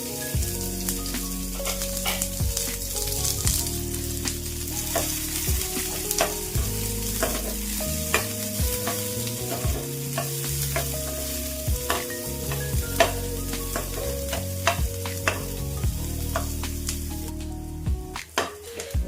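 Two medium onions, sliced, fry in oil until reddish while a spoon scrapes and stirs them through the pan, a steady close sizzle with repeated stirring clatter throughout.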